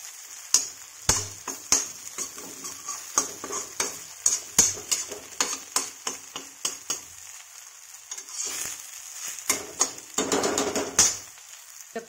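Kulth daal faanu fries in a pan, a soft sizzle broken by repeated sharp scraping and stirring clicks of a utensil against the pan, irregular and close, with no talk.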